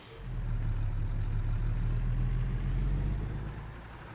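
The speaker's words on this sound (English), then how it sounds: "I wonder what people's initial impressions are of the game when they hear these engines." A heavy truck engine in American Truck Simulator drones with a low, steady rumble, swelling in after a moment, holding at a constant idle-like level, then easing down near the end, with no talk.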